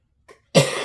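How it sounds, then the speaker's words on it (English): A single sharp cough, close and loud, after a faint brief breath. "Didn't mean to cough in your ear."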